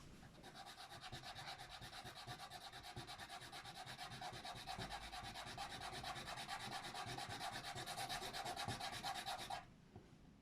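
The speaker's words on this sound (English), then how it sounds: "sanding the life out of these" Steady scratchy rasping of sanding plastic parts on an Airfix 1/24 scale Bf 109E model kit, continuous and close with a rhythmic stroke texture, stopping just before the end.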